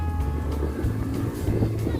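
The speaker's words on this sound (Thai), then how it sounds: "บรรยากาศที่อากาศที่ลมแรงมากๆนะ" Strong wind sweeps across a 17-rai corner plot of open land near the Mun River in Thailand, a steady loud rushing roar with low buffeting gusts and rumble throughout.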